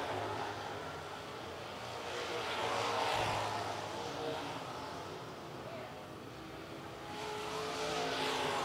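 Race cars racing at Lancaster Motor Speedway, a distant, fairly faint roar of engines rising and falling as cars pass, under a blended crowd and track ambience.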